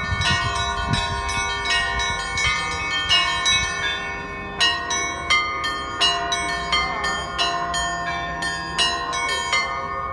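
Church bells of a restored Church of the Nativity of the Virgin, among them two pre-revolutionary bells, rung by an electronic bell ringer in Kemlya: a steady, rhythmic peal of bright, overlapping strikes with long ringing tails, loud and clear with no voices.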